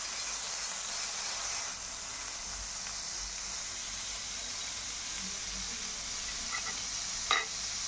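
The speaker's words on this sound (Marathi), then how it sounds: "आता त्यावर बटर टाकायचं" Butter sizzling on a hot iron griddle before chicken pieces go on, a steady even hiss across the whole stretch with a brief sharper crackle near the end, no talking.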